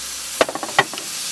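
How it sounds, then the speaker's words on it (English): Tri-tip steak sizzling on a grill heated to about 400 degrees, a steady hiss with a quick run of sharp crackles and pops in the middle. "We're ready to grill our steak."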